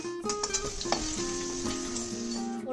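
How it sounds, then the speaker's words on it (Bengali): Potatoes frying in oil with salt and turmeric give a continuous bright sizzle, with a few light scraping stirs and pan knocks, close and steady, without any talk. "প্রথমে আলুগুলো ভেজে তুলে নেব, দিয়ে দেব অল্প লবণ"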